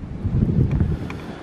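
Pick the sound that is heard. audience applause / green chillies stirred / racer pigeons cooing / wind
wind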